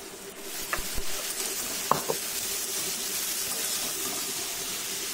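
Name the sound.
snake gourd frying with onion and black cumin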